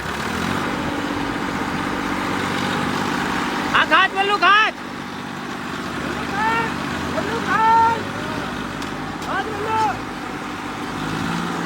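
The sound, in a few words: two tractors pulling together, engines running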